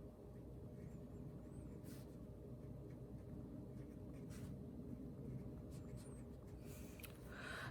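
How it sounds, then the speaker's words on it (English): A unit circle chart is drawn by hand on paper, with faint scratchy pen strokes over a steady low background hum and no speech. "So I'm going to draw my chart."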